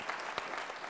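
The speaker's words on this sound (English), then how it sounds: "Let's give him a round of applause." Audience applause at a cybersecurity talk, a brief, faint burst of clapping from a crowd lasting under a second.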